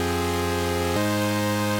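A thick supersaw synth chord held steadily, with a lower octave entering partway through to deepen and fill out the sound; sustained, loud and unaccompanied.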